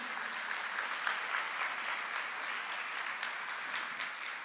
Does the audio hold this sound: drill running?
no